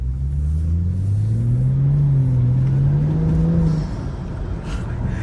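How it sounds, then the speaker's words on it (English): BMW N55 engine revving while driving, heard from inside the car as a loud, steady low drone that climbs gradually in pitch over a few seconds, then eases off to a lower cruising rumble. "My God, that sounds good. I'm not sure how well you guys can hear it on video, but it sounds amazing, especially when I'm driving."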